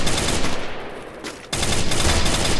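Sustained automatic fire from a FAMAS rifle in the mobile battle-royale game Free Fire, a dense loud burst that drops out briefly midway and then resumes at full intensity, with no voices over it.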